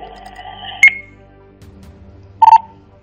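Two short electronic alert tones, a higher beep followed after a pause by a lower, slightly longer one, over a quiet low hum.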